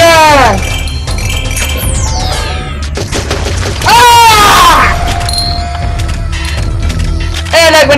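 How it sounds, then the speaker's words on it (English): Machine gun bursts and explosive booms from the video game Zombotron 2 play loud and dense, mixed with whooshing effects, clinks and squealing game sounds throughout. "Machine gun!"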